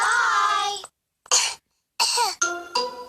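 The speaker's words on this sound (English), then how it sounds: "Pedro's cough is catching" A cartoon pig character coughs in several short, harsh bursts separated by brief silences, loud and close, with the rasp of a child-like voice and no other talk.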